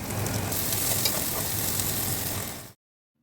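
Loud, close sizzling of tomatoes frying in a hot pan, steady and crackling, then cutting off abruptly near the end.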